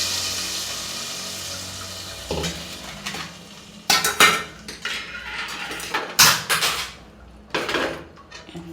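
A spoon stirs sweet pongal in a metal cooking pot, with scraping and clinking in irregular bursts over a steady background hiss, close and fairly loud, with no talking.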